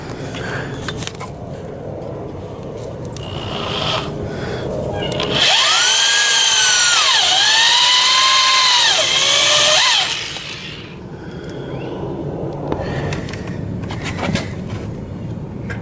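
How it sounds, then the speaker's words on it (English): Cordless drill boring into the crumpled steel body of a wrecked Toyota Celica GTS during front-end crash repair, a loud sustained whine of about five seconds with the motor pitch sagging and recovering under load, set against quieter shop noise. "Even using the cordless drill"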